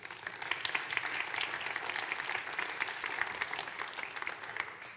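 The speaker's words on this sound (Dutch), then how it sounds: "Uw hartelijk applaus voor Hilde" Warm, steady applause from an audience at a lecture gathering in Utrecht, a dense even patter of many hands heard from some distance, fairly quiet overall.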